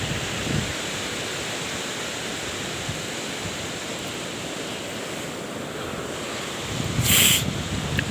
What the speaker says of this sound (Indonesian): untuk suasana laut pada sore hari ini, beginilah teman-teman, seperti yang di depan layar ini